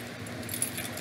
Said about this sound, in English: So I'll throw my keys and have her bring them back and she'll retrieve.